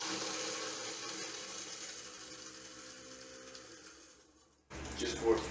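Kitchen garbage disposal grinding a handful of ice under running tap water, a loud steady whirring grind that fades out and then cuts to a burst of clattering noise.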